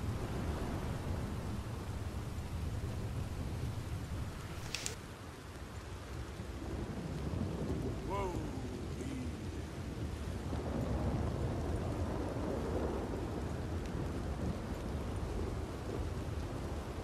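Steady heavy rain pours throughout a stormy scene in Red Dead Redemption 2, with a sharp thunder crack near the start and rolling rumbles beneath the constant downpour.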